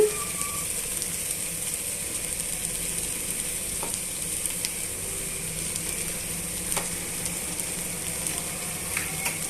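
Okra (bhindi) fries in a pan with chili powder, a loud continuous sizzle that holds steady throughout, with occasional faint ticks of a utensil.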